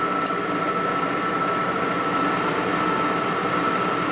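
Steady, loud grinding whine of a boring bit cutting metal at 1450 RPM during a Harley-Davidson Evolution 80 ci engine rebuild on a 2000 FXR, continuous with a high tone joining partway through, no talking.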